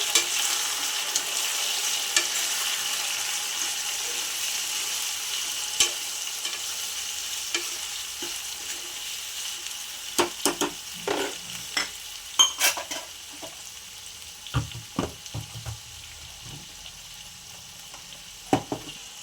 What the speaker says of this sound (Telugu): ఇవన్నీ అయితే బాగా వేగాలి.